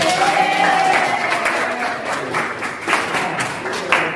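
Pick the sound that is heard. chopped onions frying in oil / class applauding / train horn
class applauding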